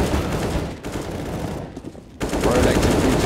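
Rapid rifle fire in a CS:GO match, dense overlapping bursts of automatic spray that stay loud and close, pausing briefly before resuming at full intensity, with a caster talking over the shots.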